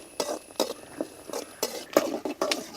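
A spoon stirs poha seasoning of peanuts and mustard seeds in a hot pan, giving about eight irregular scraping, clinking strokes, close and moderately loud, with no talking.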